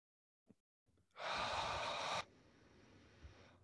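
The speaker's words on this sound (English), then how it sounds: "take a deep breath in to your diaphragm, and at the top of the breath, you hold it for 2 seconds" A person doing a slow, controlled deep-breathing exercise draws in one long, steady, close breath after a faint sniff, then lets a quieter, sustained airflow continue.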